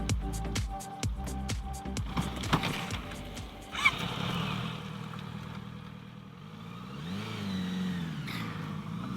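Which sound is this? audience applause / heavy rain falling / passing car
passing car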